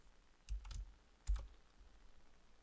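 Keys on a small computer keyboard being typed, heard as two short quiet clusters of clicks at a distance against a faint background.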